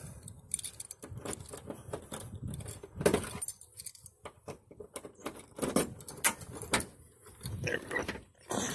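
A bunch of keys jangles and clinks near the microphone in irregular bursts, loud and metallic, with small rustles between shakes, just before an old Dodge Challenger that has sat a long time is opened up.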